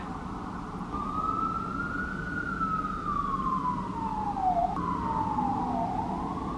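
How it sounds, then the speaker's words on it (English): Emergency vehicle siren on a New York City street, wailing up and down in long sweeps over steady traffic rumble, moderately distant and continuous, with no talking. "the sirens just kept coming and coming and coming"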